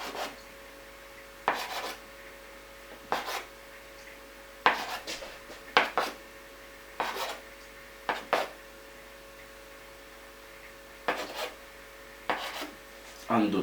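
Dim sum dough for pork and curry dumplings being cut into small pieces, about ten sharp separate knife strikes against a board at irregular intervals, close and fairly quiet over a steady low hum.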